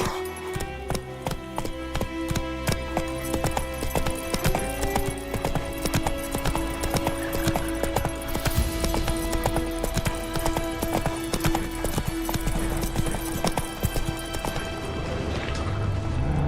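Roach the horse's hooves clip-clop in a steady, rapid rhythm throughout a Witcher 3 game scene, loud and close, with layered game ambience and music underneath.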